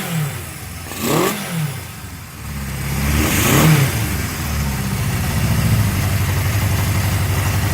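A Honda CB750F Super Sport motorcycle engine, once badly seized and now freshly restarted, revs up twice, then settles into a steady, close idle with no one talking.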